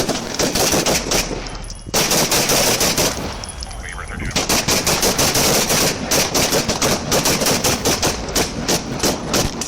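Sustained police gunfire in a shootout, dense rapid automatic-style bursts of shots, loud and close, with a short lull in the middle before the volleys resume; shouting voices are mixed in.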